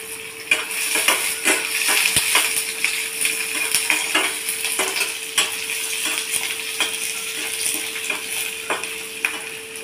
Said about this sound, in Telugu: ఆనియన్ లైట్గా ఫ్రై అవ్వాలి.